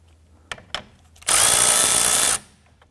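A power tool loosens a 10mm nut at the battery of a 2017-2020 Hyundai Elantra 2.0L, one loud burst of about a second after a couple of light clicks, close by.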